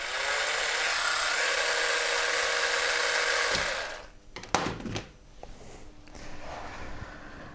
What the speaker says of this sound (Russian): А еще от этого преобразователя можно питать электрическую бритву.